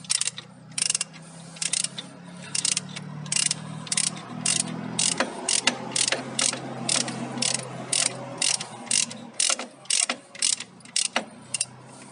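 A ratchet wrench with a 19 mm socket clicks in quick repeated bursts while loosening a car transmission drain bolt, sharp close ratcheting strokes separated by short pauses over a low background hum.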